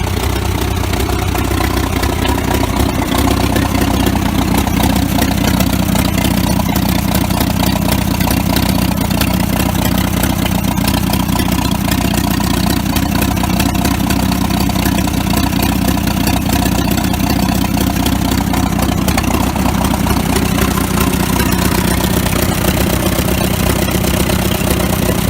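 A Farmall F12 tractor engine runs steadily after its fuel pump and magneto were refitted, a loud, close, continuous idle with a low rumbling beat and no speech throughout.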